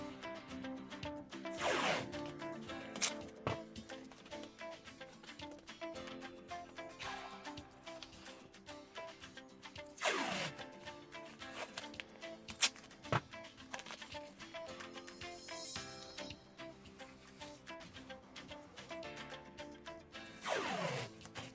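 Strips of adhesive tape are pulled off a roll in several separate ripping tearing sounds, close and sharp, spaced several seconds apart, while a screen protector is applied on a Tesla Model 3 display; no voices.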